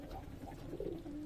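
A pigeon at a Giribaz pigeon farm near Sona Masjid in Shibganj, Chapainawabganj gives a soft, low, rolling coo, faint and brief against a muffled background.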